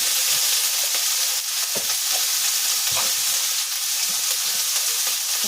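Potato, carrot, peas and beans frying with salt in a pan for vegetable upma, giving a loud, even hiss of sizzling with occasional soft stirring knocks beneath it.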